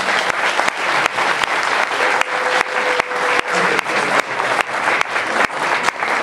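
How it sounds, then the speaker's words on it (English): Sustained audience applause at a fantasy fan convention's opening ceremony, a dense steady wash of many hands clapping in a hall that continues evenly for several seconds. "One more round of applause."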